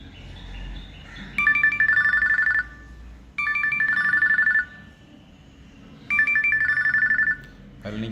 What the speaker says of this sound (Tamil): நம்ம ரிங்டோனு சவுண்டை பார்ப்போம்.